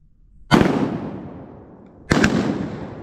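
Two loud shotgun blasts during a wood duck hunt, about one and a half seconds apart, each a sharp crack followed by a long echoing tail out in the open, with no talk between them.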